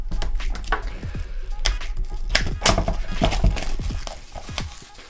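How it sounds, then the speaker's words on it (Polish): Plastic foil wrap is peeled and torn off a Xiaomi Mi Band 1S box, making a close, continuous run of sharp crackles and snapping clicks that fades toward the end. "zdejmijmy sobie na początku folię, która jest jeszcze na pudełku, żeby dostać się do samego urządzenia"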